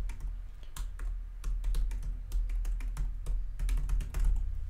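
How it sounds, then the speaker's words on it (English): Steady clatter of computer keyboard keys, with irregular bursts of clicks and short pauses, close and fairly loud, no voices. "I'm typing, making sure I spell it right."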